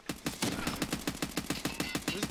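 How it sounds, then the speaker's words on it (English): Shotgun fire in Escape From Tarkov, heard as a quick, evenly spaced string of about a dozen sharp shots over two seconds, fairly faint and distant-sounding. "He's got a shotgun."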